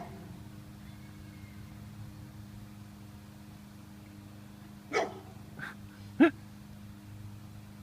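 A dog gives three short, sharp barks some distance away against a steady low hum, spaced about a second apart near the end.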